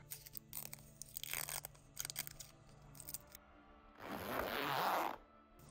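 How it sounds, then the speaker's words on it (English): A close, dry scratching rasp as a pin scores fusible backing, dragging along in short zipper-like strokes, then one longer, louder scrape. "I just score it with the pin. That kind of sounds like a zipper."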